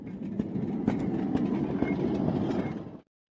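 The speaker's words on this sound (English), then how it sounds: "Somewhere behind the restaurant, there was the sound of a train. It was getting louder." An approaching train clatters in a rhythmic run of metallic clanks and rumbles, holding steady and fairly close before cutting off abruptly.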